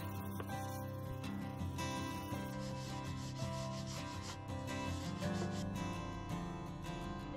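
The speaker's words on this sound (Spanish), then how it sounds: "Para dar un mejor terminado al corte en curva, lo lijo para redondearlo un poco." A curved cut in wooden decorative molding for an arched window is sanded by hand, a continuous close scratchy rubbing with rhythmic back-and-forth strokes and no talking.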